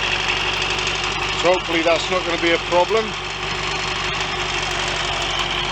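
A Royal Enfield Constellation motorcycle engine idles loud and close with a steady, slightly knocking throb, while someone talks briefly over it.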